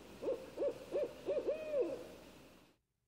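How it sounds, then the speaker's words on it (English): An owl hoots in a campout storybook scene, four short rising-falling calls followed by a longer drawn-out hoot, clear and fairly close against a faint hush before it cuts to silence. "That's just an owl."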